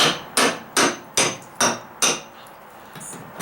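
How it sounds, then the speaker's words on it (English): Six hard hammer blows on a metal nail puller in an even rhythm, loud and close, then a brief quiet clink, during deck repairs. "just hit it with the hammer right here."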